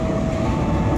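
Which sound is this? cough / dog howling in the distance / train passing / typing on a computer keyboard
train passing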